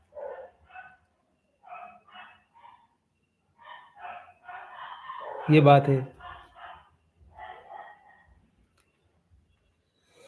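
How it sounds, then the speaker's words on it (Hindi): Several dogs barking outside at night, sharp, fairly distant yelps in scattered bursts, with one louder howl-like cry in the middle and someone speaking briefly over them. "बाहर बहुत कुत्ते भौंक रहे हैं"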